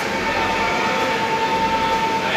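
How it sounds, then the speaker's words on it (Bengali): The Tara Maa Express, a Sealdah–Rampurhat special, sits at Sealdah station in Kolkata. A continuous rail rumble and hum fill the platform, loud and close. "ট্রেন ঢুকে গেছে, 7:10 ছাড়বে।"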